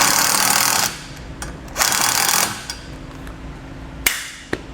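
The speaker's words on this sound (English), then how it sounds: "we'll use an 8mm socket to tighten it down." A ratchet with an 8mm socket tightens base plate hardware while installing a diode wiring kit, giving close bursts of rapid clicking and whirring, followed by a few sharp metallic taps.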